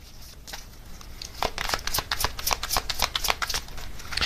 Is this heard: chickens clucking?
no